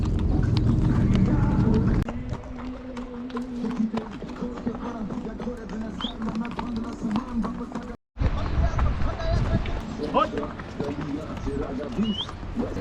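Horse hooves clip-clop along a mountain trail in Solang Valley on the way to Anjani Mahadev Temple, steady rhythmic steps close by, with ambient chatter and a brief dropout midway.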